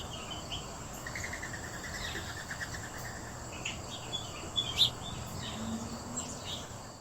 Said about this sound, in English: Bird song. Listen to this.